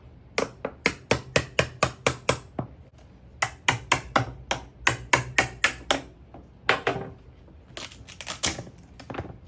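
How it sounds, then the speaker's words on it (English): Rapid sharp taps of a chisel knocking a CA-glued wedge off a thin strip jig in a woodshop, struck in quick, evenly spaced runs of crisp, loud hits with brief pauses between bursts. "just with a few taps of a chisel"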